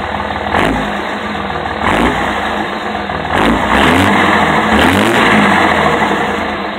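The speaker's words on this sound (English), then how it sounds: "I'm gonna jump in the truck, rev it up, let you guys hear it." A 2004 Dodge Ram 2500 5.9 Cummins turbo diesel engine rumbles up close and revs repeatedly, rising and falling in several surges over a steady idle.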